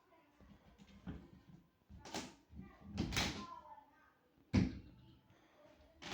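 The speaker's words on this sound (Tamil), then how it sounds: "கதவு திறந்து உள்ளே பூந்துக்குவான்" A cat nudges a door open with its paw indoors, giving a few soft knocks and creaks of the door under steady speech, ending with a sharper thump.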